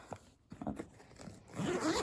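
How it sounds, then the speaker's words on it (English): A zipper on a tackle bag with rubberized zipper pulls is drawn open, a quiet scratchy run of teeth that swells into a longer, louder pull at the end. "I love these zippers because it's got this rubberized thing on these ties"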